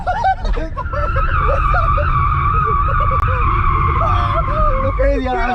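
Tesla Model S Plaid drifting in track mode, its tires skidding and squealing in a long, loud continuous screech over steady motor noise, with excited voices talking over it throughout.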